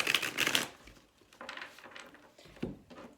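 Tarot cards are shuffled by hand in quick, papery riffles and taps, loudest at first and then continuing in softer rustling bursts close by.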